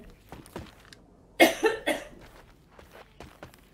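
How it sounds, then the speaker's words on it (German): A game character in Wolfenstein: Youngblood coughs loudly, a cluster of three harsh barking coughs mid-clip, surrounded by faint footsteps and soft shuffling. "die hustet aber laut"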